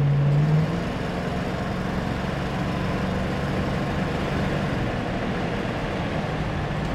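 A 1973 Dodge Challenger with a 340 V8 accelerates on the road, a loud, steady low engine drone with road rumble that holds evenly throughout after a brief louder onset.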